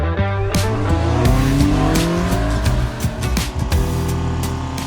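Citroen C2 VTS car driving hard, engine revving up and down through shifts with tyre squeal and skidding, loud and close, no talk.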